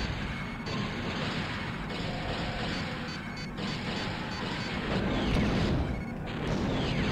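Bomb explosions boom in Star Wars: Shadows of the Empire, a dense, loud, continuous wash of blasts and rumble filling the whole stretch with no clear pauses.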